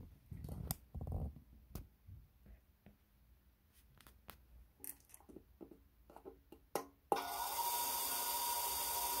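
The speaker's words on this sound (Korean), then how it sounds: "돌아가는 소리 들리시죠?" Blade of a double-sided cashmere fabric cutting machine starts spinning after several seconds of quiet handling and rubbing noises, then runs as a steady, loud whirring hum with a fine hiss to the end.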